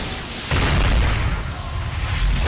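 A shot strikes a character in The Seven Deadly Sins: Grand Cross mobile game, producing a loud booming burst at about half a second that rolls into a sustained rumbling roar of effects.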